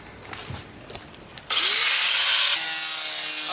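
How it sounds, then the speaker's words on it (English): An angle grinder bites into a damaged steel car quarter panel on an LS3-swapped 240SX, starting abruptly after a quiet moment and running as a loud, steady, high-pitched whine with a dropping tone partway through. "So that's what the angle grinder's for."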